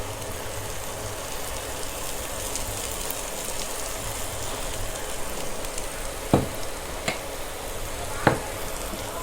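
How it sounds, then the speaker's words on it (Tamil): Ginger garlic paste frying in a pan, heard as a steady, close crackling sizzle with a few sharp clicks of a utensil toward the end. "இப்போ நெக்ஸ்ட்டு நம்ம இஞ்சி பூண்டு பேஸ்ட் இதில் சேர்த்துக்கலாம்."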